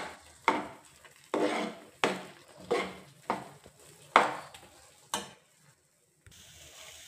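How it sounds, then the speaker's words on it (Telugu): A spoon or spatula stirs papaya halwa in a pan with about eight rhythmic scraping strokes, each a sharp rasp fading off, close and fairly quiet, then a short pause and faint sizzle. "ఉండలు కట్టకుండా మంచిగా కలిపేసుకోవాలి."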